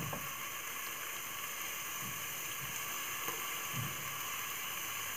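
Carrots, green peas, potatoes and other vegetables frying in a pan with sautéed onion and ginger-garlic paste for vegetable rice, giving a steady close hiss and sizzle with a few soft pops.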